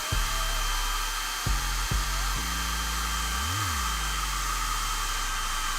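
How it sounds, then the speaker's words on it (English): A hair dryer fitted with a diffuser, used on full heat and low blow to dry curly hair: a steady close whirring drone with a few brief clicks and a short pitch dip partway through. "on your dryer, I always like to use it on a full heat and a low blow"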